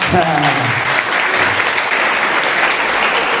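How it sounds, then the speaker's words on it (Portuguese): An audience at a youth talk applauds steadily, a dense, loud wash of clapping that carries on throughout, with a voice briefly heard at the start. "Então, palmas pro Igor, pessoal."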